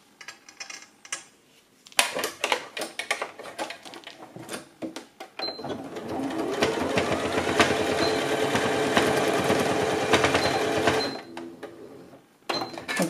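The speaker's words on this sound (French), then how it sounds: "On coud un point droit, pas sur la totalité," Sewing machine stitching a straight stitch on a bag, with short start-stop bursts of rapid mechanical chatter followed by a longer, steady run of close, fast stitching.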